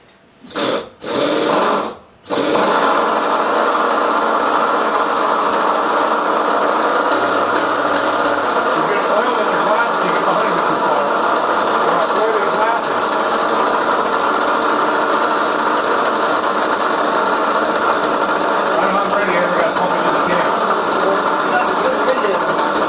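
Little Demon 2 engine starts after a couple of brief cranking bursts, then runs and idles steadily and loudly with a dense mechanical clatter for the rest of the clip.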